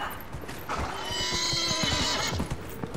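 A horse whinnies loudly and close by in Dragon Age: Inquisition, a drawn-out rising and falling neigh over soft hoof clatter.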